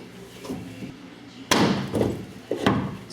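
Plastic trim being pried off a Ford F-150, giving a sharp crack and snap at the midpoint, then two smaller clicks and knocks close by.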